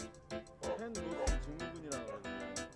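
Several dogs at an animal rehabilitation and adoption center yip, bark and whimper in quick, close bursts over about three seconds, with people's voices mixed in underneath.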